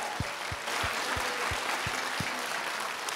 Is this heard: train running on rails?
no